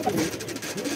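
Pigeons in a rooftop loft cooing softly close by, a short run of low, throaty warbling coos over faint background noise.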